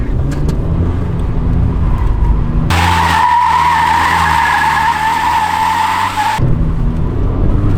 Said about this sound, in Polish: Odpalamy jedynę, odpalamy dwójek, kierownica maksa i gaz.